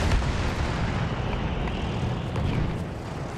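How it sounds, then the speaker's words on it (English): A grenade goes off in a Battlefield 1 battle as a deep, rumbling blast, followed by a sustained low roar of battlefield noise with no clear talk. "Oh, that's a grenade."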